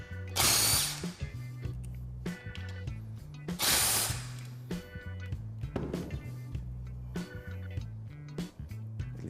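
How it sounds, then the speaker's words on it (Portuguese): A ratchet loosens two 10 mm bolts on the sensor of an automatic transmission, giving close, quick clicking with two louder bursts of rapid ratcheting. "a gente remove o sensor soltando os dois parafusos"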